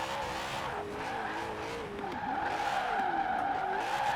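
A BMW M3 GTR set up as a drift car in Forza Horizon 4, its engine droning loud and steady while the tires squeal and skid in long wavering sweeps throughout, with no voices.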